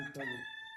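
Rooster crowing at a home stay in Karnataka, one short close call with strong harmonic tone.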